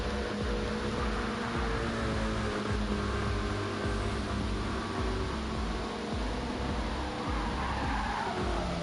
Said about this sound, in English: Cliff and Pedro still side by side racing